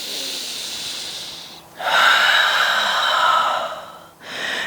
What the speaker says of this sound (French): Respire, une grande respiration ensemble.